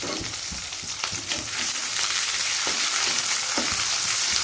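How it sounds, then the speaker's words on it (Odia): Chopped onion dropped into hot oil after a tempering of five spices, a loud hissing sizzle that swells and holds steady with occasional stirring clicks. "ତାପରେ କାଟିକି ରଖିଥିବା ପିଆଜକୁ ପକାଇ ଦେଉଛି।"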